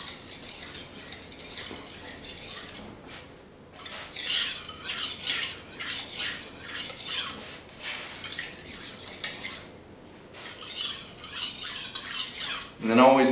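Metal knife drawn along a sharpening steel or stone in repeated rhythmic strokes, bright scraping bursts separated by brief pauses, close and clear, no voices.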